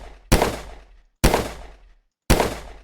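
Three sharp gunshot-like blasts fired at a steady pace with short decaying tails, from a Scratch-made shooter video game where the player fires at viruses, sounding alone with no talk.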